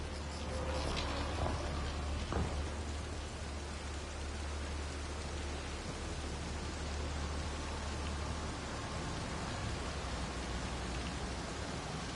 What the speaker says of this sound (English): I wonder if there's a broken Atmo processor somewhere that's causing this downpour.